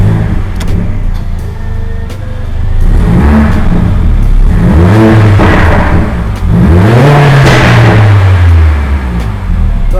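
A Mercedes-AMG CLA engine revs hard inside an underground car park, several loud rising blips and sweeping revs echoing off the concrete, with no talking over them.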